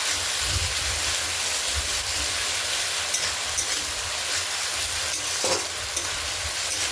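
Ginger garlic paste sizzles and crackles steadily in a hot pan, with occasional scraping stirs of a spoon.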